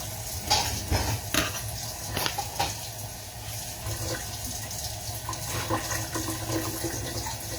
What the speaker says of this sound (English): I'm just rinsing off my pots and pans,